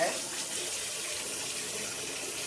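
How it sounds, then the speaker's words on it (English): Hot water from a tap runs into bowls set out to soak, a steady close rushing splash that fills the whole moment without pause. "Fill these bowls up and let them soak with some hot water."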